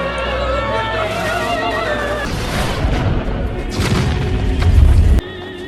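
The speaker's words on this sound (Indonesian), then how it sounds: "Ledakan di krematorium 1 menjadi akhir dari perlawanan mereka." A film scene's explosion of a crematorium builds from rumbling chaos into a heavy low boom near the end, then cuts off abruptly, under background music.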